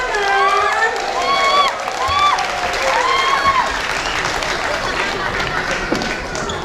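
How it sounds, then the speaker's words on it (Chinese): Steady, dense applause from a large crowd at a church Christmas event, with whoops and high cheering voices rising over the clapping throughout. "来，我们请他们到前面来，我们用很用力的掌声来欢迎他们"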